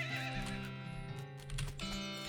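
A drunk horse in West of Loathing lets out a long, wavering whinny over a steady musical backing, with a brief clip-clop of hooves beneath it.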